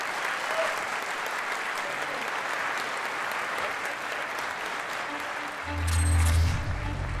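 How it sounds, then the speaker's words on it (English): Audience applause at a game audio awards ceremony, a steady, dense wash of clapping from a large crowd that swells louder near the end, with a brief low hum or tone toward the close. "please give a big round of applause for David Garcia and his great work."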